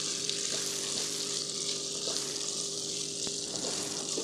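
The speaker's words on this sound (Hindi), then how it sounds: "मैं इसको फ्राई करती हूँ" Chicken chilli with ginger, capsicum and green chillies fries in a pan. A steady, moderate sizzle carries a few light clicks of utensils, with no voices.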